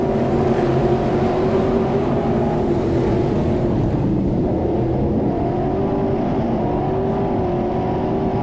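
Stock cars racing at an off-road speedway, a loud continuous engine roar with wind buffeting that holds steady throughout and never breaks.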